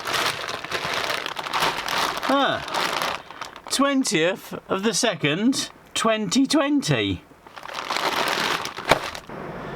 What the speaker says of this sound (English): Can you hear that rain?